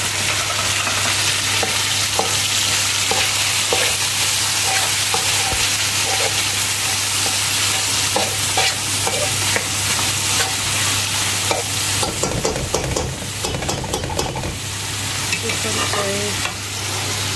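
Tomatoes frying in a pan of browned onions for mutton pilao: a steady loud sizzle with scattered crackles and stirring scrapes throughout, growing busier and harsher near the end.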